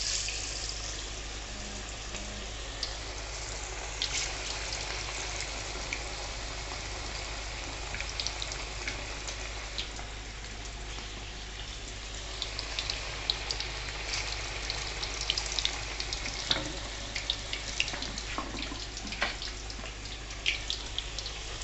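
Onion fritters in chickpea batter deep-frying in hot oil over medium heat, a steady hiss and crackle with scattered pops, continuous throughout and fairly loud.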